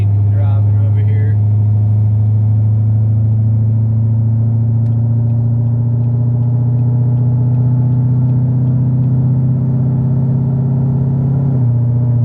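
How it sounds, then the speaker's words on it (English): A Honda Civic EG with a B18C engine idles and rolls up at a 7-Eleven car meet, a steady low engine drone holding close and loud for the whole stretch, with faint voices in the background. "We got Braden driving over here."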